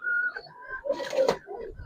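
Giribaz pigeons in a loft give short soft coos and throaty calls, close and moderately loud, with a brief rustle partway through.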